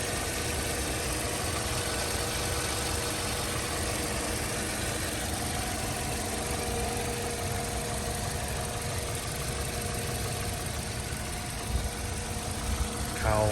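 A 2012 Toyota Corolla LE engine idles quietly and steadily at close range, a smooth low hum with no revving, with a faint brief rattle near the end.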